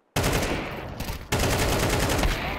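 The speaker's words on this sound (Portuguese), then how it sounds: "Viu que o Trai tinha errado o tiro, puxou, fez a eliminação do Vini" Rapid gunfire in a video game esports match, an ESL Challenger League game between Imperial and Red Canids: loud, dense bursts of automatic shots, a brief pause, then another sustained volley.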